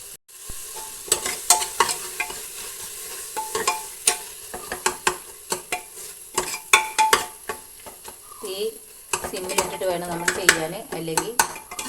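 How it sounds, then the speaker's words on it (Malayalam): Chopped tomatoes are sautéed in a pan for egg kurma: a spoon scrapes and clinks against the pan in repeated close strokes over a light sizzle. "നമ്മൾ നേരത്തെ അരിഞ്ഞു വെച്ച തക്കാളി ഇതിലേക്ക് ചേർത്തി കൊടുക്കുകയാണ് ഇനി നമ്മളിതൊന്ന് വാട്ടിയെടുക്കണം"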